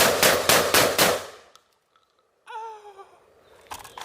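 An AR 12 Boomslang Thunderbolt semi-automatic shotgun fires buckshot in a rapid string of about five loud, close blasts. The echo fades into quiet, then a high metallic ringing follows, like steel targets or a clanging part.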